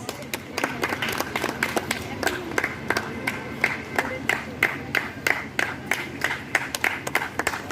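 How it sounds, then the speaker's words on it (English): An audience at a school function claps in a steady, fairly synchronised rhythm to welcome a guest, sharp repeated claps through the whole stretch with faint chatter underneath. "please welcome sir with a huge round of applause."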